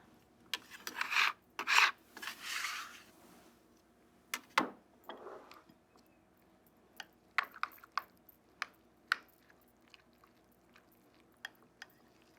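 Scraping and rasping of a bench scraper dragged across a wooden cutting board in a home kitchen, a few longer rough strokes followed by short sharp scrapes and taps, fairly close.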